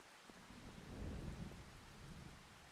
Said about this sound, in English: Oh, we've got a storm. We've got a storm coming.